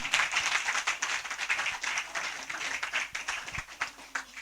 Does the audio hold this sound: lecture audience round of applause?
yes